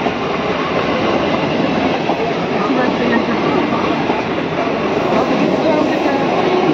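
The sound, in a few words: train passing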